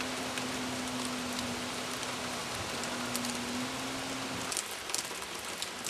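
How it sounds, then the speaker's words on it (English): Steady freezing rain patters on a surface during an ice storm on an island, a dense even hiss with a faint low hum underneath, fairly quiet and continuous. "Freezing rain and big white caps."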